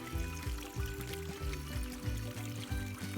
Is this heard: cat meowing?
no